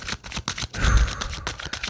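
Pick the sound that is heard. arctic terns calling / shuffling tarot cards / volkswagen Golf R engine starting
shuffling tarot cards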